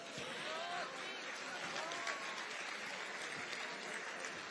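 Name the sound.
audience applause at a campaign forum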